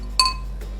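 A spoon clinks once against a bowl while homemade mayonnaise is stirred for a chicken tikka paratha roll, a single bright ringing tap up close that fades quickly into quiet.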